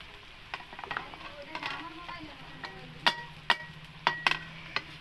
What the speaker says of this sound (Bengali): তোমার তরকারিটা কে নাড়ছে?